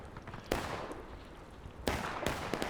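Napoleon cannon shells booming in The Blue and the Grey Civil War game: a single sharp report, a pause, then three more in a loose cluster over steady battlefield rumble.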